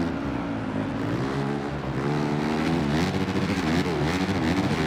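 A dirt bike engine in the MX vs ATV video game revs at full throttle, a loud, steady buzzing drone whose pitch wavers and climbs, running for the whole stretch with nothing else heard.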